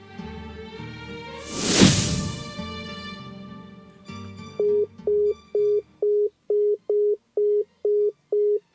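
A whoosh rises and fades, then a phone call's tone pulses eight times at an even, steady rhythm, loud and alone, as a phone is dialed.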